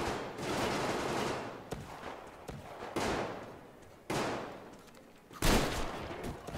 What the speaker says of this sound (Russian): Это отличный выстрел. Этот выстрел не может не радовать.